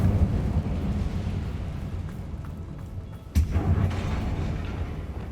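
An Incendio fire spell cast in Hogwarts Legacy, a steady roaring, rumbling burst of flame near a damaged bridge, with a sharper whoosh flaring up midway before the roar continues.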